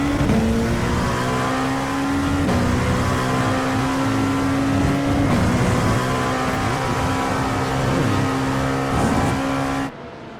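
An LMP2 prototype in the iRacing sim holds a loud, steady engine drone at high revs, its pitch shifting slightly at gear changes around two-second intervals, with other cars' engines faintly mixed in during an IMSA race; the sound cuts off abruptly near the end.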